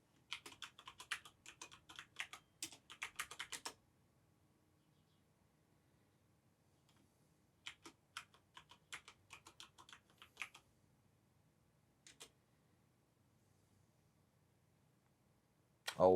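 Someone types a password on a computer keyboard, with quick bursts of close, crisp key clicks, then long quiet gaps, then a few more scattered bursts and single taps.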